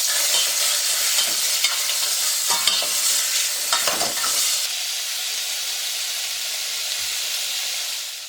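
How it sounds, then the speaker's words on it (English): Lamb browns in olive oil in a pan with a loud, steady hiss of frying, broken early by a few scraping stirs before settling into an even sizzle. "And we'll put the lamb straight in there. And we're just going to brown that."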